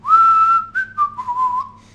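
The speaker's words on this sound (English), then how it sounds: "First, you have to know how to whistle." A person whistles a short tune close to the microphone, a loud clear held note followed by a few shorter sliding notes that fade out, with no talking.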